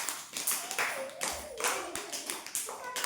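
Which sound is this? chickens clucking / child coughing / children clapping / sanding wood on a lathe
children clapping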